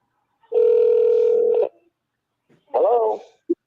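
Telephone call tones before a call goes to voicemail: one long steady electronic tone, a pause, a shorter warbling tone, then a brief final blip, loud and clear with no talk.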